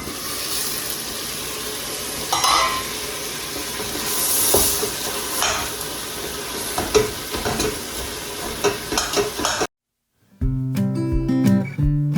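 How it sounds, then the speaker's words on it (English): Ground beef, partly thawed, sizzles and crackles in a hot pot, a steady frying hiss with occasional scraping stirs, ending abruptly after a short gap with unrelated music. "So let's check our hamburger. I hear it really cooking in here."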